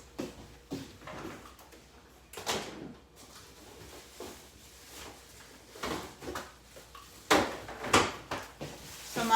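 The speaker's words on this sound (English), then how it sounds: "my dogs get all excited when they hear the refrigerator door open" A kitchen refrigerator door opens with several scattered clunks, thumps and rustles, close and moderately loud, among quieter handling noises.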